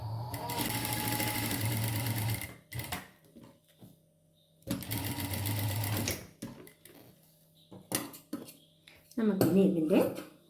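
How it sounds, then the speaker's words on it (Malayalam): Sewing machine stitching the collar of an A-line kurti, with two long bursts of steady mechanical whirring separated by pauses, then short clatters and handling noises near the end; a voice talks briefly between the runs. "അപ്പം നമുക്ക് ഇതിൻ്റെ കോളർ അടിച്ചെടുക്കാം"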